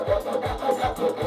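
Small Silky hobby hand saw easing gently into the start of a cut, giving four short, evenly spaced rasping strokes close by with brief pauses between them.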